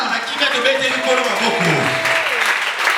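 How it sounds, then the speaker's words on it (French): Church congregation applauding in worship, a dense sustained clapping throughout with voices crying out and singing over it. "On acclame le Seigneur."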